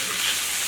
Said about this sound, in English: the frying is going to bring out a flavoring in the cabbage